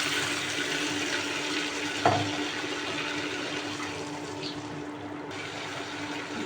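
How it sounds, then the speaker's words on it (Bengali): Water is poured into a cooking pot over fried potatoes for egg-potato curry, a steady close rushing splash with a small clatter partway through. "পানি দিয়ে দেবো"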